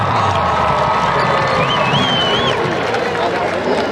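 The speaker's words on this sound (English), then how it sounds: "Let's give one more big round of applause to our underclass winners." A crowd at a high school football game between Dobson and RMHS cheers and applauds the underclass homecoming court winners, a loud, steady roar of voices and clapping with a whistle rising above it.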